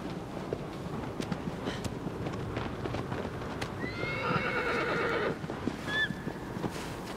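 Horse in the video game Shadow of the Colossus, hooves clip-clopping at a run with a clear whinny partway through, fairly close, no talk over it.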